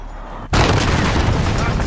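A cruise missile strike lands in Call of Duty Modern Warfare multiplayer, a sudden loud blast that cuts in after a quieter start and keeps roaring as a dense, sustained rumble.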